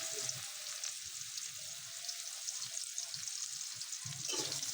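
Chopped onion dropped into hot oil in a pan just used for frying potatoes, for a beef bhuna: a steady, bright, close sizzle with soft low bumps from the pieces moving.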